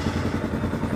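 A 2025 CF Moto 230 Dual Lite carbureted motorcycle engine, a loud, close, low rumble with a rapid, even throb and no voices over it.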